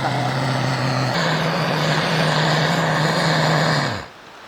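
A new camping gas torch, a birthday gift used outdoors on a camp trip, roars steadily with a loud, broad rushing flame and a low droning hum, cutting off abruptly near the end.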